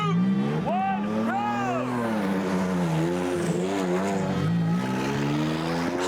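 A car laps a road course, its engine note climbing and falling through gear changes as it passes and sweeps through bends, loud and close throughout with voices faintly mixed in.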